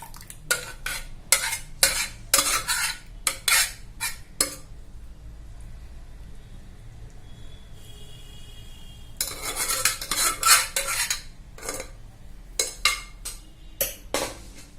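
Green chilli dal is spooned from a pan into a bowl, with sharp metal scrapes and clinks in quick bursts, a pause in the middle, then more clanks.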